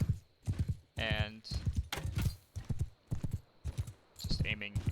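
Rhythmic clip-clop of a galloping horse in Mount and Blade 2 Bannerlord, steady hoofbeats running beneath near continuous talking.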